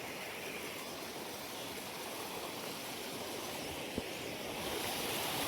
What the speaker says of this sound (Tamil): இங்கே ஒரு குட்டியா ஓட மாதிரி குட்டி ஃபால்ஸ் மாதிரி